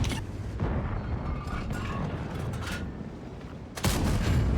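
A tank cannon fires in a clan-wars tank battle game, a heavy boom bursting out near the end over a steady rumble of engine and battle noise.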